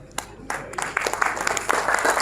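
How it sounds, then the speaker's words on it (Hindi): Scattered hand claps rise into steady applause from an audience at an education conference in Kashmir, building in density over a couple of seconds with faint voices underneath. "Please put your hands together."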